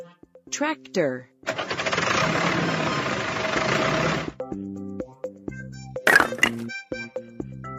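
A toy tractor engine effect from a children's vehicle sound puzzle chugs and rumbles steadily for a few seconds, framed by short electronic chimes and tones before and after.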